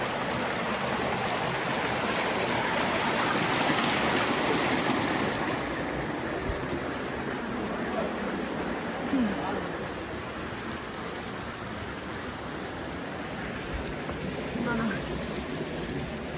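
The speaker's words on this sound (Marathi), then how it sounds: "एकदम नितळ नदीचं पाणी स्वच्छ. कसा खळखळाटून वाहतोय." Clear glacier-fed river water rushing and babbling near Turtuk village in Ladakh, a steady broadband wash of flowing water that holds constant throughout, close and fairly loud with no voices over it.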